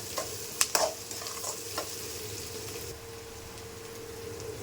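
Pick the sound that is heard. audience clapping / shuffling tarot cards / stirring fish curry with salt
stirring fish curry with salt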